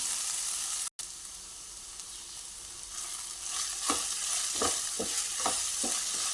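Cut okra stir-fries in a pan under a constant sizzle, joined midway by a rhythmic series of close spatula scrapes and knocks, after a brief dropout at the start.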